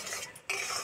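A utensil stirring jaggery syrup in a pot for sesame laddu, a quick scraping swirl broken by a brief pause, close and fairly soft.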